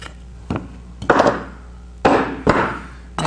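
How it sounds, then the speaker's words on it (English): A woodworking chisel cleaning out waste from a cut in wood, giving a few sharp, close knocks and scraping strikes in an irregular rhythm with short pauses between them. "Take a chisel and clean it out."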